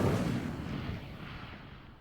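A fire spell cast in Hogwarts Legacy, heard as a loud burst that hits at once and fades into a rumbling roar over about two seconds.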